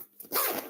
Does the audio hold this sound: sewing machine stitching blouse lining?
no